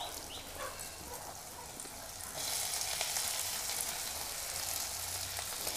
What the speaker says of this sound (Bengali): এবার আমি সেদ্ধ করে নেওয়া আলুগুলো এই তেলের মধ্যে দিয়ে দেব।